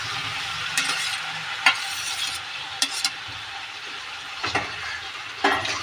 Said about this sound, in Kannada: ಈಗ ಕೊಯ್ದು ಇಟ್ಕೊಂಡಿರೋಂಥ ಹೂಕೋಸುಗಳನ್ನ ಹಾಕೊಳ್ಳೋಣ ಎಣ್ಣೆಯಲ್ಲಿ.